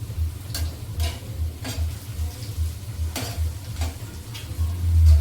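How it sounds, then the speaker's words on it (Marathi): Dal bati dough balls frying in oil, a steady low bubbling sizzle with occasional sharp ticks and clinks of a utensil, close and moderately loud, swelling slightly at the end; no voices. "अशा सगळ्याच बाट्या आपण व्यवस्थित तेलात तळून घेणार आहोत"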